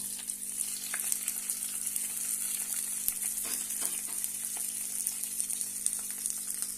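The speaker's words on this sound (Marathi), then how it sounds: "आता आपण ही फोडणी भातावर ओतून घेऊया" A hot tempering of mustard seeds, cumin, dried red chillies and curry leaves sizzles as it is poured onto rice, a steady close crackling fizz with small pops and spatters throughout, without any talking.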